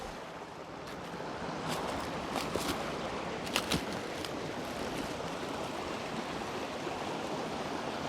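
A creek rushes steadily over rocks near a waterfall, a constant, loud, full hiss of flowing water with a few faint clicks and splashes and no talk.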